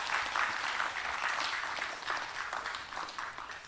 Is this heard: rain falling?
no